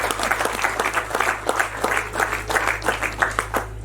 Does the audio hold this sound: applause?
yes